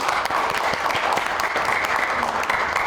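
Audience applause welcoming a physics professor to the stage at a quantum computing and bio-health forum, a steady dense clapping from a crowd that holds evenly throughout.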